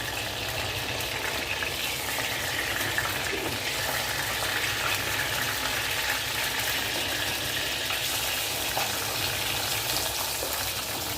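Onion and tomato sauté in hot oil in a pan, giving a steady, even sizzle that carries on without a break.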